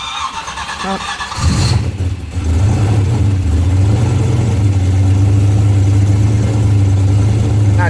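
A Ford Mustang 5.0 fitted with an On3 Performance turbo kit and an electric exhaust cutout cranks and catches, then settles into a loud, steady, rumbling idle close by, with a brief spoken exclamation as it starts.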